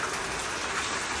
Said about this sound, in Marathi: सुसाट म्हणजे जोराचा पाऊस पडतोय